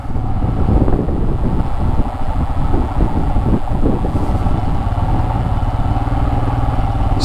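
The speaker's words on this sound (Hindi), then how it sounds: "रेत है तो बहुत ज़्यादा बाइक फिसल रही है इस पे।" Motorcycle ridden over loose desert sand near Jaisalmer, Rajasthan, its engine droning steadily and close under heavy wind buffeting, with no talk.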